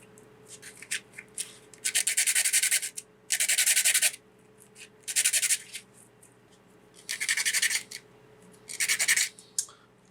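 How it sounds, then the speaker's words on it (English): Repeated bursts of rough sanding as a coarse sanding stick rubs the ends of small wooden fence pieces for a cobblestone diorama, five or six scratchy strokes separated by short pauses, close and clear. "get quite a rough sanding stick. I'm just going to tidy up the ends."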